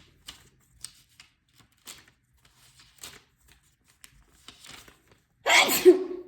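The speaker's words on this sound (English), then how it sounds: "the sneeze" A single sharp, loud sneeze bursts out near the end, following a stretch of quiet soft clicks and rustles.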